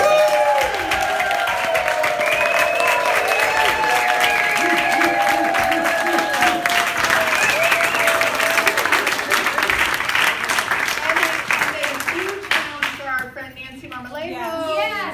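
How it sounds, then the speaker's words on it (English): A crowd applauds loudly and continuously, dense clapping that holds steady before thinning out near the end, with scattered voices mixed in. "just give a really uproaring round of applause for our vision keeper."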